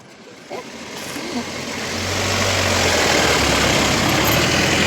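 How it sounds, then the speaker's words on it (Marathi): A motor vehicle pulls up with its engine running, a low rumble that grows steadily louder and nearer over a few seconds, then holds as a heavy, continuous drone. "गाडी आली चल गाडी आली"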